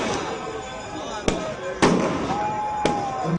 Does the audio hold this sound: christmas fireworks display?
yes